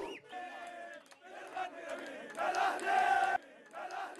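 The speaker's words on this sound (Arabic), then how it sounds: "هكذا احتفل جماهير الأهلي بتتويج فريقها بطلا لكأس الكؤوس الأردنية" Al-Ahly supporters celebrating their team's first Jordanian Cup Winners' Cup title, chanting and shouting in loud, rhythmic bursts that swell and drop back repeatedly.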